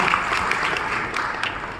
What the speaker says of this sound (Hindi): एक बार जोरदार तालियां KS भार्गव जी, प्रमिला भार्गव जी, हमारे अपलाइंस के लिए मैं बताना चाहूँगी